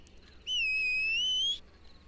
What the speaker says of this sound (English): Big whistle.